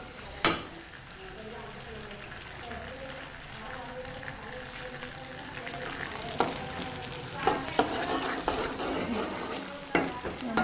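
Food frying in hot oil gives a steady, close crackling sizzle throughout, with a few sharper spoon clanks against the pan, especially toward the end.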